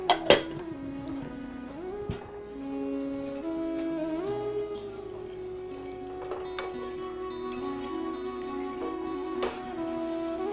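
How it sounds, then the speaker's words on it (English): Flour and ghee being stirred in a metal pot over a fire: a spoon clinks sharply against the pot a few times at the start, then a softer ongoing scrape, with faint clinks returning later. "So now while the flour is patching, I would stir this all up."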